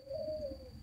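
A tame, hand-kept spotted dove gives a single short, soft coo close by against quiet background hiss.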